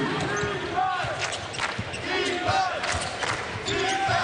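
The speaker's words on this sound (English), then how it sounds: "Watson dribbles through the crowd." A basketball is dribbled on a gym court during a college game against Santa Clara, with repeated rhythmic bounces beneath crowd noise and a commentator talking over the play.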